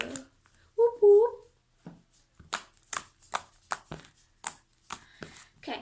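Butter slime spread and squished by hand, a run of soft squelchy clicks and sticky smacks up close, with a voice speaking briefly near the start.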